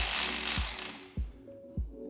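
Mechanical clicks and ratcheting from a hand tool loosening the bolt on a motorcycle brake caliper, three sharp clicks spaced about half a second apart, close and fairly quiet, no talk.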